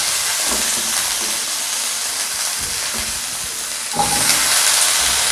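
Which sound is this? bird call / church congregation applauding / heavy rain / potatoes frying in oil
potatoes frying in oil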